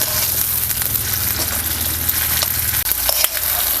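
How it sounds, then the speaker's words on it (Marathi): Coarsely pounded green chilli thecha sizzles and crackles steadily in hot oil, a close, continuous frying hiss with a few stirring scrapes and no voices. "आपल्याला हे खरडा परतून घ्यायचं पूर्ण हे खरडा आहे ना असं गरम व्हायला पाहिजे"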